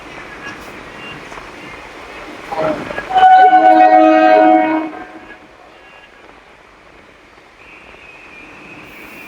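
A train rumbles past as its horn blares loudly for a couple of seconds, then the rail noise fades; voices murmur faintly in the background.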